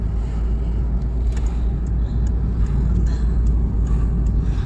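Car driving along Brīvības street in Riga, a steady low road rumble from inside the vehicle with constant engine and tyre noise throughout, no voices.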